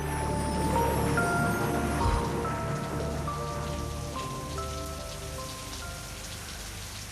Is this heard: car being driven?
no